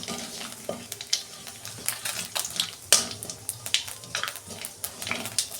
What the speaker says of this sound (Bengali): ওই তেলে আমি অল্প কালো জিরে দিচ্ছি